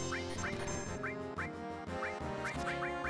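Final Fantasy VII chocobo calls, a series of bright repeated quacking chirps over steady game music with a pulsing beat, evenly spaced and close.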